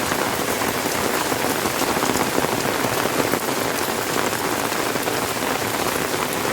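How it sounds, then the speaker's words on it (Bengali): Steady rain pours onto a village road, a dense, even hiss of drops hitting the wet surface, loud and continuous with no voices. "বৃষ্টি পরে"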